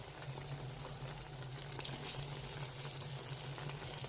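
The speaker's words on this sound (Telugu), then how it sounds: "వంకాయలు ఇట్లా ఫ్రై చేసుకొని తింటారు" Brinjal slices frying in hot oil give a faint, steady bubbling sizzle with a low hum underneath, and nobody speaks.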